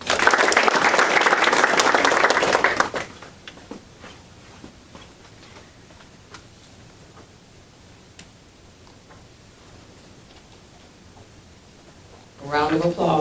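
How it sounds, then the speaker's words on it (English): A crowd at a high school National Honor Society induction ceremony breaks into loud, dense applause for about three seconds. It drops to a quiet room with scattered small sounds, and then a voice starts speaking near the end. "Let's give them a round of applause"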